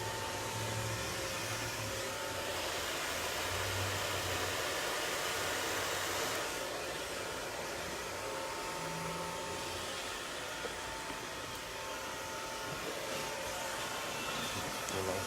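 A hair dryer blows steadily and loudly throughout, drying hair wrapped under tension during a short bob haircut, its whooshing roar holding nearly constant with slight shifts as it moves.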